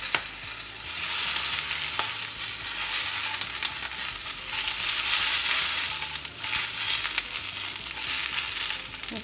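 Tomatoes frying in a little oil in a pan for a pork rind salsa: a loud, steady close sizzle and crackle throughout, with occasional stirring scrapes and no talk.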